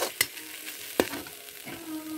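A paste of ginger, garlic and onion fries in a pan, giving a soft, low sizzle broken by two sharp clicks of a spoon against the pan.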